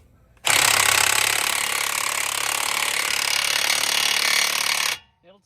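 A DeWalt 1/2-inch drive impact wrench hammers loudly and continuously on an axle nut for about four and a half seconds, close up, then stops abruptly.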